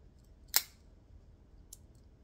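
Victorinox Swiss Army knife scissors give a single crisp snip, with a second fainter snip about a second later, close and quiet against a near-silent background.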